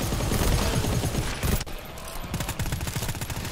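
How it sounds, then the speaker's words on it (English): Rapid automatic gunfire in the co-op shooter game GTFO, in the R5A1 Floodways level, dense, loud and continuous bursts with a short lull midway before the firing resumes. "I'll shoot the big guy."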